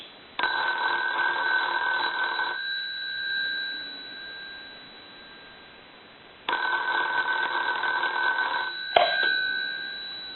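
Two separate rings from a repaired wooden wall telephone bell, each about two seconds of continuous metallic ringing with a pause between, and a brief click near the end.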